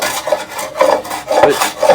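A Stanley scrub plane rasps across wood in quick repeated strokes, a coarse scraping shave sounding roughly every half second, close and fairly loud with no voices.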